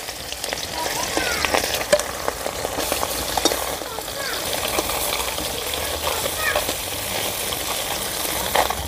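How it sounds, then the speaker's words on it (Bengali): Small river fish fry in mustard oil in a hot wok, giving a steady, dense crackling sizzle with occasional sharper pops, close and fairly loud throughout, with no talking. "মাছগুলো ভেজে নেব"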